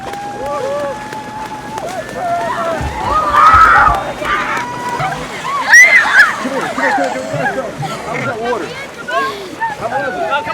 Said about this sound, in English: Watch this crew go by me going in this cold water.